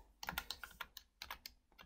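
Fingers tap a computer keyboard while filling in personal details during an Office 365 business setup, producing a faint, uneven run of quick key clicks.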